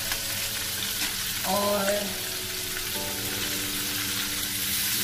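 Butter sizzles into frying mustard greens saag in a pan, a steady close crackle with a brief rise as it goes in, while a voice says a single word over it.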